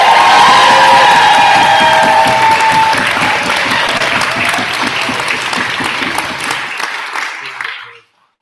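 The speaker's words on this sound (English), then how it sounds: "accept points of information, and get rapturous round of applause." A university debating society audience bursts into loud, rapturous applause with cheering and whoops, close and sustained for several seconds before fading and cutting off abruptly near the end.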